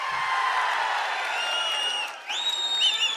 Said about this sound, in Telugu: అవునంటే గట్టిగా చప్పట్లు కూడా చెప్పండి అవునని